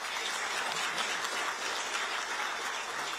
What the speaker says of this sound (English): we must have a round of applause for both of them